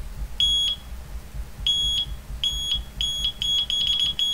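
A Delkim bite alarm set off by vibration gives a series of sharp, high electronic beeps, first single tones and then quicker repeated bursts, loud and close against a low background rumble.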